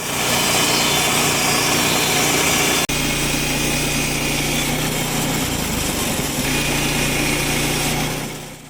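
A portable sawmill with a small high-revving engine runs loud and steady while milling logs into boards, its whine holding throughout with a brief break in tone partway through.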